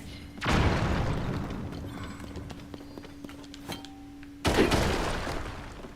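Bombs explode in The Legend of Zelda: Tears of the Kingdom, two close, heavy bursts about four seconds apart, each fading into a rumbling tail over a faint steady tone.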